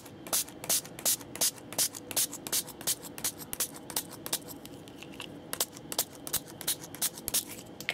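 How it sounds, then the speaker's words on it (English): Quick bursts of color mist spray onto paper hiss out in an irregular series of short puffs, close up, with faint handling sounds between them and no talking. "I'm going to give this a really nice spray"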